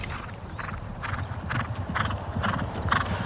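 Racehorses moving in training, their hooves clip-clopping in a steady rhythmic beat over a low rumbling background, close and continuous with no talk.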